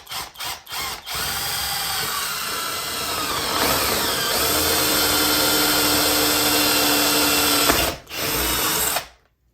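A power drill with a long bit bores through foam and plywood for a model railway layout, whining loudly and steadily for several seconds after a few short bursts, then stopping and briefly restarting.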